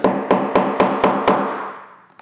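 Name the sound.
hammer knocking down a snap setter on a moto jacket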